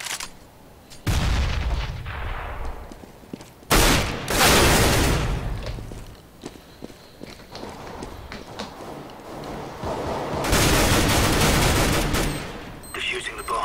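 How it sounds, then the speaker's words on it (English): Counter-Strike: Global Offensive match with a grenade explosion: loud, booming blasts and bursts of rapid gunfire in repeated waves over several seconds, dense and close, with game voice lines mixed in. "Grenade."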